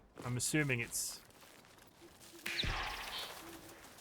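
Birds call within the forest glades of the video game Soulframe, with short chirps and coos entering partway through over a soft ambient bed, following a brief stretch of talk at the start.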